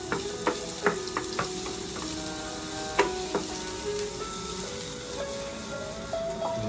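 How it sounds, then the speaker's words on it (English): Garlic fries in hot olive oil in a pasta pan, giving a steady sizzle with a few sharp pops and clinks of stirring scattered over several seconds, close and without talk. "This one only needs olive oil and then make it hot. Then we have to add our garlic."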